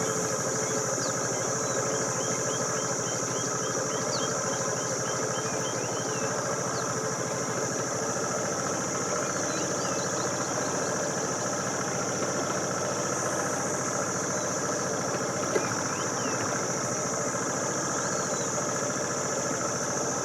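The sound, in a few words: motorcycle engine idling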